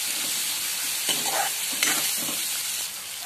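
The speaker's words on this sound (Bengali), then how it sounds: "পেঁয়াজ টমেটো ভাজা হয়ে গেছে" Onions and tomatoes with Kashmiri chilli powder fry in hot oil, giving a loud, continuous close sizzle with a few soft stirring scrapes partway through and no voices.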